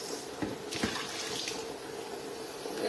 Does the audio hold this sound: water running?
yes